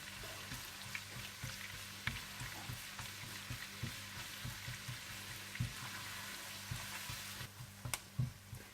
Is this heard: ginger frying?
yes